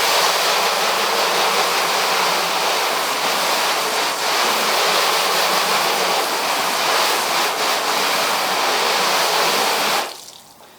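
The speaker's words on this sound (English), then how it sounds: "we're going to go ahead and just rinse that off real quick." A strong spray of water rinses car wash soap off a car, a loud continuous hiss of water that runs steadily for about ten seconds and then cuts off abruptly, with no speech.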